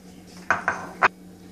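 Three sharp clinks of dishes and utensils as restaurant-style palak paneer is served into a bowl, close and distinct against a quiet room with a faint steady hum.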